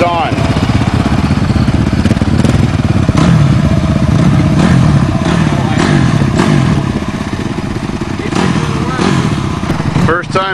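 Racing engines of a Suzuki LTZ400 quad, a Yamaha 700 Raptor quad and a Honda CRF 250 dirt bike roar together at full throttle, a loud continuous close buzz with shifting revs and voices talking over it.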